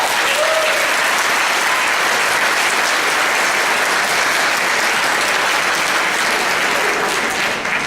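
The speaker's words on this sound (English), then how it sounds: "please give them one more round of applause" A room full of people applauds at a South Carolina District 7 Republican primary debate, steady, dense clapping that stays loud and even for nearly eight seconds before easing slightly at the end.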